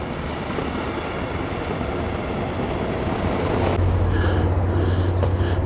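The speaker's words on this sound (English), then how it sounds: "Even the trains come right through town." A train rolls through the town of Rüdesheim, Germany, a loud, continuous rumble with clattering wheels and a rising tone as it passes close by.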